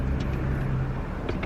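A BMW car engine idles after running for about 10 to 15 minutes, a steady low hum close by with faint faster ticking, no speech.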